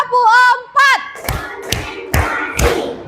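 A short spoken count is followed by four sharp, evenly spaced group handclaps from children in a classroom, each landing loud and crisp in a steady counted rhythm.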